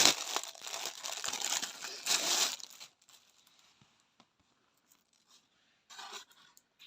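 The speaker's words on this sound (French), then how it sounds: "Alors, la toile, on y va. Hop, on déballe." Crinkling and tearing of plastic packaging as a paint-by-numbers canvas is unwrapped, loud and busy for about three seconds, then a few faint rustles and one more brief crinkle near the end.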